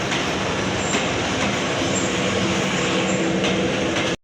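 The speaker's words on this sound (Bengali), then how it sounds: "প্রবেশ করলো সাতশো সাতশো বত্রিশ down Barendra express Saidpur railway station" Barendra Express, the 732 Down, rolls into Saidpur railway station as a loud, steady rumble of wheels and carriages, filling the whole stretch before cutting off abruptly at the end.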